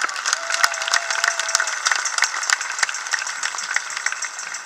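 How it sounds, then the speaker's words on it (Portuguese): Applause from a crowd at a charity carnival: dense, steady clapping with crisp individual claps, no voice heard over it. "uma salva de palmas a todos."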